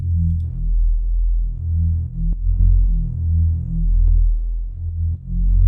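Drum and bass sub bass run through a Melda Audio M-Bit bitcrusher at 10 bits with some delay: a loud, deep, throbbing tone sliding between pitches in a steady rolling pattern, alone without voices.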